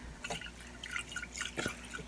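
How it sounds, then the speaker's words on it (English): A small amount of water swirls and drips inside a nearly empty glue bottle during slime making, giving brief wet sloshing bursts near the start and again past the midpoint, close and fairly quiet. "I'm going to take just a tad bit of water and rinse around in this so I don't waste this glue"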